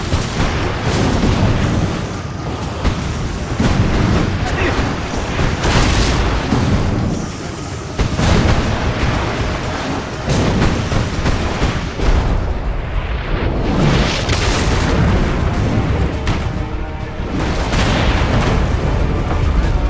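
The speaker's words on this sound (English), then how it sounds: "Ah, Greek fire!" Repeated loud booming explosions of Greek fire in the video game Assassin's Creed Revelations, dense bursts and rumbling blasts one after another with crackling debris, continuous and close for the whole stretch.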